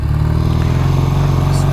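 A Triumph Bonneville T140V motorcycle engine running at a steady idle, close and loud, with a low throbbing pulse and no change in revs.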